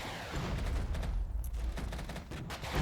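Dense, continuous volleys of gunfire from several units firing on a tank in the Regiments strategy game, a loud overlapping crackle of shots with low booms running steadily throughout.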